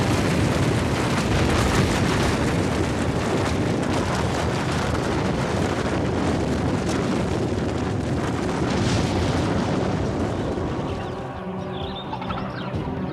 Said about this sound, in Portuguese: Existe um efeito progressivo em que as duas torres desabam completamente,